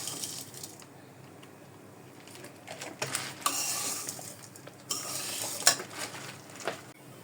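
Kunafa mixture frying in ghee, with a soft sizzle broken by repeated scraping and clinking of a spoon stirring in the pan, the metallic taps louder in short bursts toward the end.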